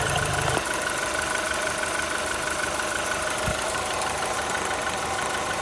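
A 2003 Volkswagen Golf 4 with a 1.4 engine idles steadily up close, a continuous rhythmic rumble with faint ticking, alone without talk.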